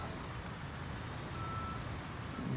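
A truck reversing toward an asphalt paver's hopper in Construction Simulator on PS5, its backup alarm beeping steadily over a low engine rumble, faint and distant.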